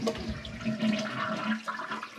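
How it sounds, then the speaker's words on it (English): A household toilet, fitted with a new flapper and fill valve, flushes nearby with a rushing swirl of water that stays strong throughout the short moment. "And let's flush it."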